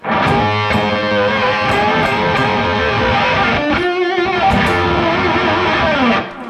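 Fuzzy, noisy distorted guitar notes ringing in a dense, gritty wash, with a few chords smearing together, loud and continuous.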